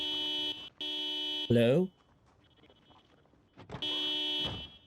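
A car alarm in the video game Project Zomboid blares in steady electronic bursts, broken by a brief pause; a person speaks over a short gap in the middle, then the alarm resumes loudly.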